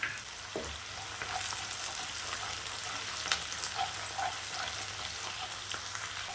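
Garlic frying in oil for brinjal kulambu, a steady close sizzle that crackles continuously, with a faint clatter of stirring at the start and no talk.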